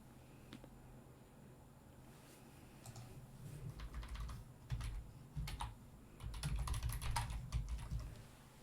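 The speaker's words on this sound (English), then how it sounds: "Sorry if the typing is loud sometimes." Computer keyboard typing in irregular bursts of crisp keystrokes, growing denser and louder toward the end, close by over a soft low rumble.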